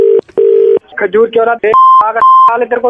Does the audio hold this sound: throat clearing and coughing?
no